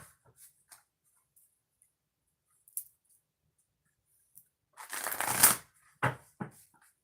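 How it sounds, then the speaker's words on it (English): Oracle cards shuffled in two short bursts, a few soft taps and clicks first, then a louder close papery riffle followed by a couple of brief snaps, with near silence between. "2 shuffles for Capricorn before we start."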